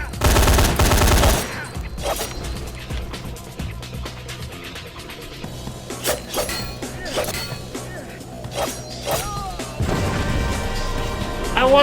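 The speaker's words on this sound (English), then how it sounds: "I wasn't anywhere close to that bloody explosion." Explosion and gunfire in the video game Vampire: The Masquerade - Bloodlines: a loud blast bursts at the start, followed by scattered sharp shots and impacts, with another heavy burst near the end.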